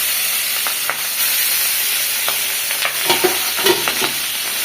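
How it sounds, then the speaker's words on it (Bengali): Tangra fish frying in oil in a home kitchen, a steady close sizzle with scattered sharp crackles and spits, plus a few soft stirring scrapes. "এই যেমন মাছটা ভেজে নিচ্ছে সুন্দরভাবে"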